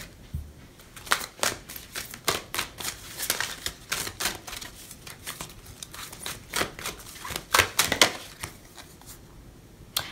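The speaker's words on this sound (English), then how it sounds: "Now I'm going to pull a card from the Wisdom of the Golden Path Oracle." Oracle cards from the Wisdom of the Golden Path deck are shuffled by hand, giving rapid, close papery riffles and soft slaps in uneven bursts, with a few louder flurries near the end and no speech.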